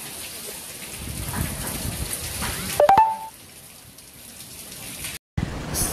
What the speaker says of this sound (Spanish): Se aguanta y vuelve y llueve fuerte otra vez,